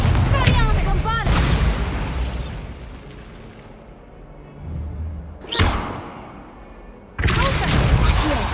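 Bombarda explosion spells in the Hogwarts Legacy video game, a heavy booming blast at the start, another sharp burst mid-way and a third loud boom near the end, with low rumble between and a voice shouting spell names.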